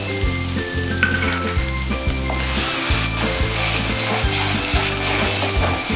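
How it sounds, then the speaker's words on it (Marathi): Spice masala and ground wet paste frying in oil in a pan for a village-style mutton curry, a steady close sizzle with scraping stirs and clinks of a spoon throughout, no talking. "मसाले आपण छान असे तेलावरती परतून घ्यायचे आहे त्यासोबतच आपण हे बनवलेलं वाटण देखील लगेचच घालून घ्यायचं आहे"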